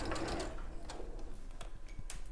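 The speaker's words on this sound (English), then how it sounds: "So sew down this one first." Sewing machine stitching a quarter-inch seam on a peony quilt panel, a steady fast mechanical chatter of the needle running continuously and close, with light clicking through it.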